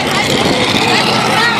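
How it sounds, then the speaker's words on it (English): A tractor-pull engine roars loud and steady, a harsh broadband blast with no break across the short moment, captured close at a tractor pull in Whitewright, Texas. "Tractor pulls."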